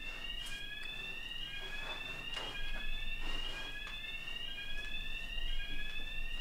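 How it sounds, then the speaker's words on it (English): An apartment fire alarm going off, a loud electronic pattern of repeating rising tonal sweeps and beeps that cycles continuously over a faint room background. "my fire alarm has gone off"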